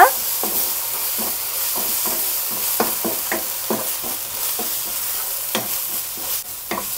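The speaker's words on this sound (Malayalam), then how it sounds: "ഒരു ടേബിൾ സ്പൂൺ ചില്ലി സോസ് ഒരു ടേബിൾ സ്പൂൺ ടൊമാറ്റോ കെച്ചപ്പ് ഇതെല്ലാം കൂടി ഒന്ന് നന്നായിട്ട് മിക്സ് ചെയ്തെടുക്കുക" A spoon stirring chili sauce and tomato ketchup in a hot pan, with a steady sizzle underneath and repeated scraping knocks at an uneven rhythm, close and clear without any voices.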